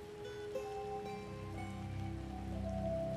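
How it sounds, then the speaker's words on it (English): Rain falls in the city-building game SimCity 5, a steady soft hiss of drops on surfaces with faint sustained background tones, quiet and continuous with no talking. "Oh, it's raining."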